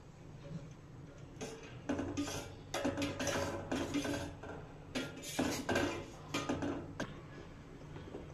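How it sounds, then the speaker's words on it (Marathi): A spoon stirs heated milk with lemon juice in a metal pot, making soft scraping clinks and taps against the sides in irregular strokes, faint and close, with no talk. "आता आपण याच्यामध्ये लिंबाचा रस टाकून देऊया आणि याला चमच्याने ढवळून घेऊया।"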